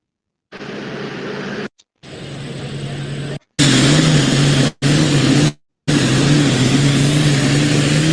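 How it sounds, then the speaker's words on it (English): A pulling tractor engine roars at a truck and tractor pull in Wisner, Nebraska, a loud sustained drone cut into several bursts by abrupt silences. "Let me know if you can hear the tractor."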